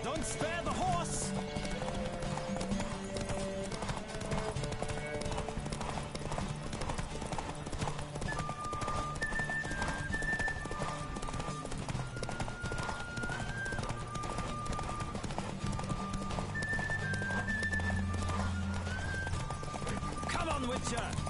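A horse gallops with fast, relentless hoofbeats through a race in The Witcher 3, with occasional whinnies, layered under game music and shouting voices throughout.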